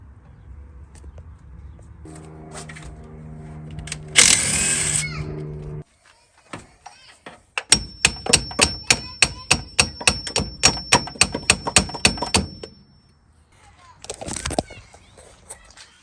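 A burst of regular impact-wrench hammering on a stuck steering knuckle bolt of a Ford Mustang II front end, about a dozen sharp rapid blows over several seconds, amid clanks and brief handling noises in a garage.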